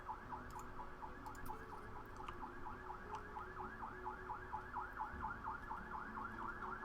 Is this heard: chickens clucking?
no